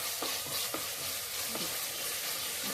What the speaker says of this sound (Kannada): ಶುಂಠಿ ಬೆಳ್ಳುಳ್ಳಿ ಪೇಸ್ಟ್ ಹಾಕಿ ಚೆನ್ನಾಗಿ ಹಸಿ ವಾಸನೆ ಹೋಗೋವರೆಗೂ ಅದನ್ನು ಫ್ರೈ ಮಾಡೋಣ